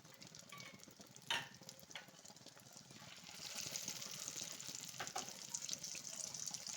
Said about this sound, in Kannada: ಎಣ್ಣೆ ಕಾದಿದೆ ನಂದೊಂದು ಪೀಸೆ ಹಾಕೊಳ್ತಾ ಇದ್ದೀನಿ